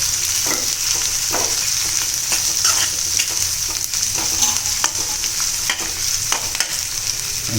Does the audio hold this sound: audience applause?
no